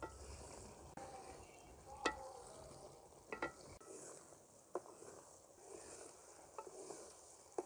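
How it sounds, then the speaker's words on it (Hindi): A spoon stirs sohan halwa in a pan with ghee, giving a steady low scraping and sizzling texture broken by a few sharp clinks of the spoon against the pan. "चम्मच को इसी तरीके से हिलाते हुए हम इसकी जो है बनाई करेंगे"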